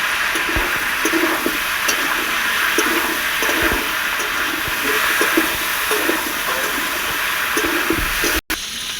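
Ingredients for a vegetarian pumpkin chokka frying in a pan, giving a loud, continuous hissing sizzle with scattered crackles, steady throughout before a sudden brief drop near the end.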